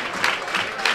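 Stadium crowd at a football match applauding a substituted player as he leaves, a fairly soft, distant wash of clapping with a few louder bursts.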